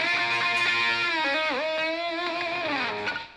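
A distorted electric guitar plays a lick from a solo, its notes dipping and swooping with the whammy bar, played alone and fairly quiet.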